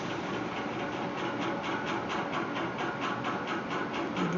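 A sewing machine stitches cotton dress fabric for a small Laddoo Gopal outfit, a steady close rapid mechanical clatter with an even pulsing rhythm that runs without pause.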